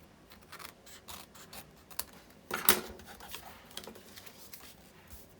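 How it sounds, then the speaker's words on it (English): Scissors snip excess paper from a handmade gift tag, a run of quiet close crisp cuts and rustles with one louder snip near the middle, no talk. "And then just cut the excess off."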